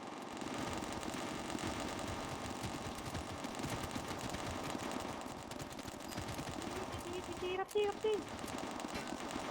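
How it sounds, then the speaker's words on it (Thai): Rapid automatic gunfire from the 110 gun on an online game server, a dense rattling stream of shots throughout, fairly close, with a brief break near the end and some talk underneath. "ผมชอบเสียงปืนร้อยสิบมาก โคตรมัน"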